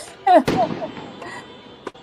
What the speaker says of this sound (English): The gunshots.